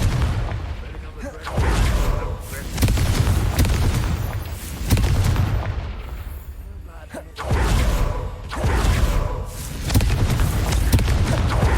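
Confringo fire-blast spells in Hogwarts Legacy, several loud booming bursts every couple of seconds during a greenhouse fight, with game voices speaking among them.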